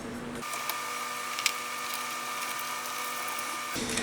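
A machine spins a newly mounted fiber wheel on a UXCELL adapter, starting abruptly into a steady whirring hum with a faint tonal whine, holding evenly for about three seconds before cutting off.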